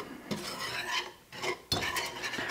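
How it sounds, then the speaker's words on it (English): Whisk scraping and stirring a flour and spice mixture in a pan on the stove, with soft irregular rasping strokes and brief clinks against the metal, fairly quiet and close, with no voices. "We're gonna whisk this all together."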